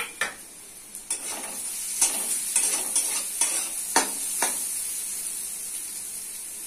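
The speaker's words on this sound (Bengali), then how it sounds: "পেঁয়াজের সাথে সয়াবিন লাল করে দিতে হবে। লাল হয়ে চলেছে, দিয়েছি আদা রসুন বাটা," Soybean chunks fry with onion and ginger-garlic paste in a pan, a steady sizzle broken by several sharp stirring scrapes spaced about a second apart, close and moderately loud with no voices.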